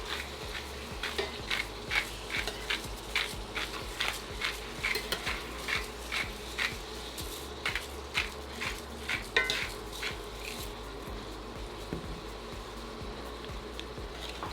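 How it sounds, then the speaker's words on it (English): Venison chili meat browns in a pan while a utensil stirs it in a steady rhythm of repeated scraping strokes, with a soft sizzle underneath, close and clear, no talking. "Just gonna mix this up a little bit here"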